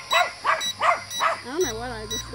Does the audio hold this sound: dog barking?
yes